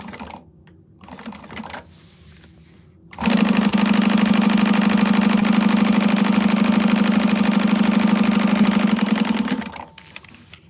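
A sewing machine top stitches the long edges of an Alice Wristlet. It starts after a quiet pause, runs as a loud, steady, fast whirring hum for about six seconds, then stops, with no talking.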